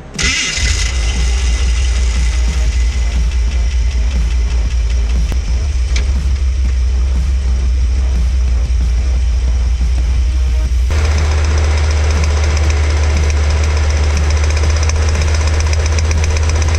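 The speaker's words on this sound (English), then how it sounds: "as you can hear right there, the engine knock definitely did not go away." A van engine starting and then idling with a rapid, harsh mechanical knock throughout, loud and close, the rhythmic clatter continuing as the idle tone shifts partway through.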